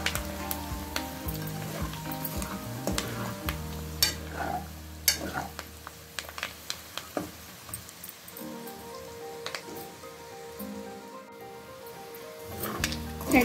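Chicken fry with chili powder frying on low heat in a pan, a steady close sizzle broken by repeated scraping stirs and clinks, with some music running underneath.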